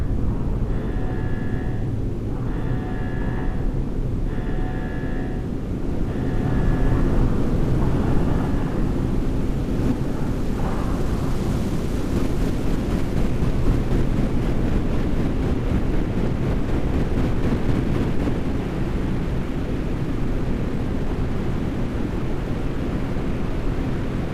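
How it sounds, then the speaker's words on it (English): A deep, steady roar from a rocket lifting off in Deliver Us the Moon, a broad continuous rumble that swells slightly and holds for the full length, with a few brief tonal beeps early on. "Rocket boosters ignition start. Engines ready in 5, 4, 3, 2, start 1. We have liftoff!"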